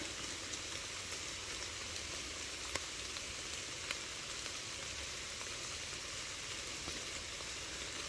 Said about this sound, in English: These raindrops are havoc.